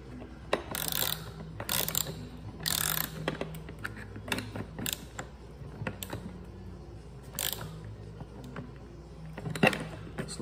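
A ratchet fitted with a 14 mm socket tightens an M14 nut while swapping the batteries of a Ryobi 48V pack, giving quick bursts of close, crisp clicking separated by short pauses.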